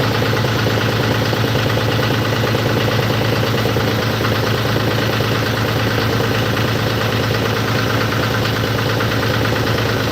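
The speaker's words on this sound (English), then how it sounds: "I think this is our newest tractor," A John Deere tractor engine idles steadily nearby, a continuous loud low rumble with an even mechanical throb running throughout and no voices.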